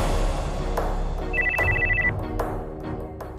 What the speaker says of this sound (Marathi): तो फोन आधी बंद करा.